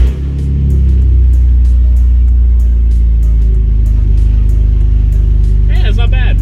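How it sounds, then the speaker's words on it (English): A lowered BMW E46 with an open header starts and settles into a loud, deep, steady idle with a rough rumble close by; a voice briefly speaks near the end. "I've lowered the E46 down, so we're gonna start it up open header"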